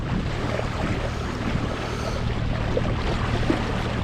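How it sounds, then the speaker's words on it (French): Wind at sea aboard a sailboat cruising the Balearic Islands in a light 5-6 knot breeze over calm water, a steady broadband rush of wind noise and water wash with a low hum underneath, continuous and close. "Le vent est monté un peu."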